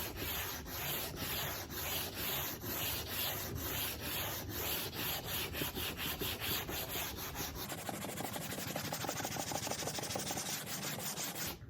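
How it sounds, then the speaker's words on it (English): Steady back-and-forth rasp of sandpaper shaping a wooden airfoil edge for a model glider, with rhythmic strokes that fade into a smoother, continuous scrubbing near the end, close and alone. "I'm just gonna continue to sand and create more of a curvature of an airfoil."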